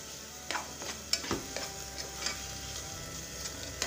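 Bell pepper sautés in a pan for lasagna bolognese, a soft continuous sizzle marked by sharp clicks and taps of stirring, close and alone.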